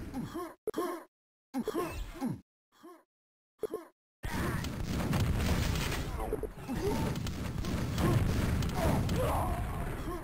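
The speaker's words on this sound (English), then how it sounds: "It's a nade." A grenade explosion during a QuakeWorld 4on4 match: a few seconds of broken, clipped voice sounds give way to a sudden loud burst that continues into dense, roaring battle noise.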